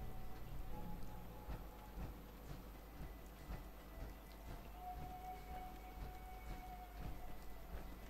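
Rain falls in the Fallout 4 wasteland under overcast, foggy skies, a steady soft patter spread across the whole stretch with scattered heavier drops and a low rumble beneath, fairly quiet throughout.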